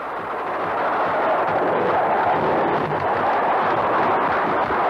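A bomb bursts during an air attack on the liner Canberra in the Falklands War, a sustained loud, broadband roar that rumbles and churns steadily across the whole span without pause.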